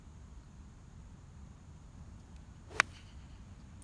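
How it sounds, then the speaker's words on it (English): A single crisp, sharp crack of a hickory-shafted golf club striking the ball, a 21-degree Jack White spoon, played from the fairway on a golf course. The strike is a brief, moderately loud click standing alone over quiet outdoor ambience. "And that sound right there is one of the main reasons I play with hickory clubs."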